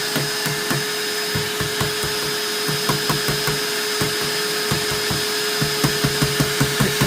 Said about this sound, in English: I'm going to tap on the pipe.